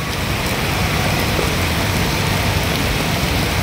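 Heavy rain pours steadily and loudly beside Kalyan railway station, a dense continuous hiss of water with no pauses.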